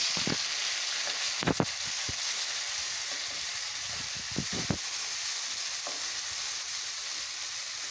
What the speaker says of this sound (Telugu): అల్లం వెల్లుల్లి పేస్ట్ రెండు స్పూన్లు వేయాలి ఇదంతా బాగా పచ్చివాసన జరిగేంత వరకు వేయించుకోవాలి